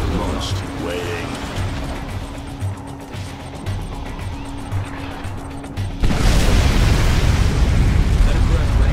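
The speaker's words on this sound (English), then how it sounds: "Nuclear missile launched." Nuclear missile strike in the real-time strategy game Command & Conquer: Kane's Wrath, a deep roaring blast that breaks in abruptly after a stretch of quieter battle noise and unit voices, then rumbles on loudly.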